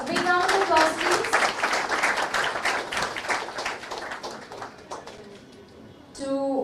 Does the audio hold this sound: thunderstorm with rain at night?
no